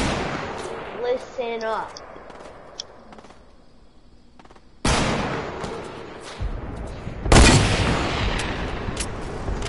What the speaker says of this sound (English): Rocket launcher only. There you go. That's how we kill them. Rocket launcher.